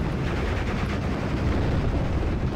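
Continuous battle noise from the Steel Division: Normandy 44 game, a dense, muffled rumble of gunfire and distant blasts over an infantry fight on a road, steady and moderately loud.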